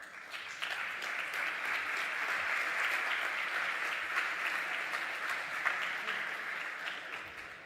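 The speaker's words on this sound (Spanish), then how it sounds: "a quien recibimos con un fuerte aplauso" An audience gives warm, sustained applause to welcome a moderator at a youth forum, even clapping of moderate loudness continuing throughout with a few scattered voices underneath.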